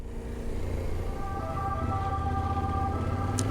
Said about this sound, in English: Following the ambulance, fast traffic.